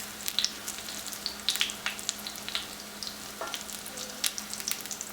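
Potato pancakes made from leftover mashed potatoes fry in a pan with a close, steady sizzle full of sharp crackles and spits, and no one talks.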